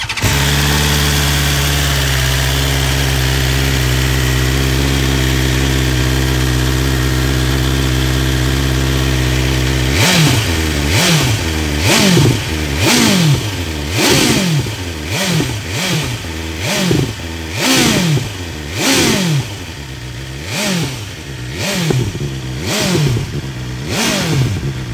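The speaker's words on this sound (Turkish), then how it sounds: "Ve bu egzozla beraber motorumuzun sesi bu." A 2024 BMW S1000XR motorcycle fitted with an Akrapovic exhaust idles steadily, then revs repeatedly in a series of sharp, loud throttle blips with crackling overrun between them, close to the listener.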